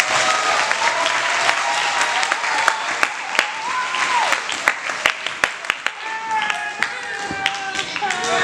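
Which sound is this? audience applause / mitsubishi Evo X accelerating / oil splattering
audience applause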